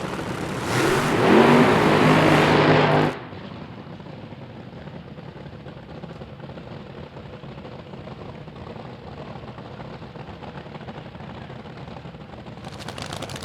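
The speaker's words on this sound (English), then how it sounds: "the cackle of a 426 cubic inch supercharged nitro burning Hemi fills the air once again at Firebird Raceway" A supercharged nitro-burning 426 cubic inch Hemi dragster engine at Firebird Raceway blasts with a loud, harsh roar for about three seconds, then abruptly cuts to a lower, steady rumble.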